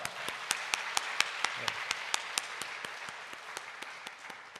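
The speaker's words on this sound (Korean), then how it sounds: "우리 가브리엘 성가대 다시 한번 박수로 한번 격려하겠습니다." Church congregation claps for the elderly members of a church choir in rhythmic, evenly spaced claps, fairly quiet and steady over a soft room background.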